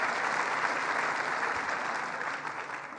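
Steady audience applause fills a large room at a governor's announcement event, dense and sustained with a slight fade toward the end, no voices over it.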